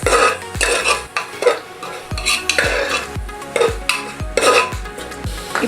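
Mutton gravy with green chillies stirred in a pot, the spoon scraping and knocking against the metal in a regular rhythm of strokes roughly every half second, under a light sizzle, close and with no talk.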